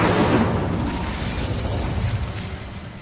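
Incendio fire spell cast in Hogwarts Legacy, a loud whooshing burst of flame at the start that tails off into a sustained roaring rumble.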